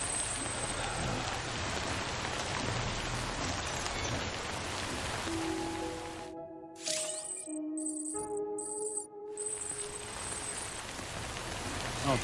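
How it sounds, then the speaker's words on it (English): Steady rain falls in the video game Death Stranding Director's Cut, a dense continuous hiss that briefly drops out midway while soft chime-like tones sound, then returns. "I don't think this rain's gonna stop."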